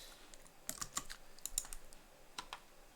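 Faint, scattered clicks of computer keys as a password is typed, a handful of quiet close taps spread irregularly over a few seconds with no voices.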